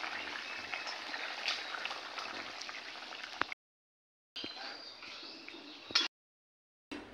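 Paneer curry gravy with potato and squash bubbling steadily in a pot, a dense hiss of boiling liquid with small pops, cut by two brief silent gaps and a sharp clink near the end.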